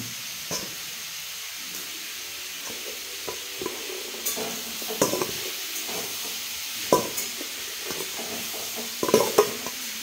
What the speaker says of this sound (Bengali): এইবার শাকগুলো দিয়ে দেবো।